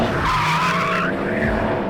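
Porsche 911 GTS T-Hybrid sliding under power with its rear end swinging round, tires squealing loudly and continuously over the engine's strained tone, close and alone with no talk.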